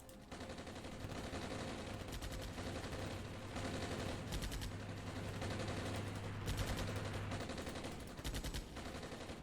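Unit gunfire in the wargame Armored Brigade sounds as a constant, fairly quiet crackle of rifle and machine-gun bursts, with sharper volleys standing out at intervals and a low engine hum underneath.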